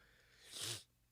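A single short sneeze, fairly quiet, building briefly and cutting off sharply against a faint background hum.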